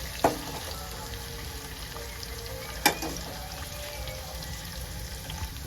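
Onions sizzling in a pan for a simple Indian breakfast, a steady soft frying hiss with two sharp clinks of a utensil against the pan, quiet and close.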